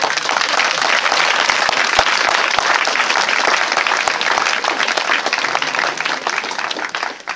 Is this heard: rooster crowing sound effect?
no